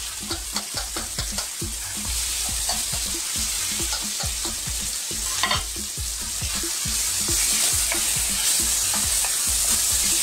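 Smoked bacon and chopped tinned whole tomatoes cook over high heat, a steady loud sizzle punctuated by a regular rhythm of spoon-on-pan stirring knocks and scrapes, no voices.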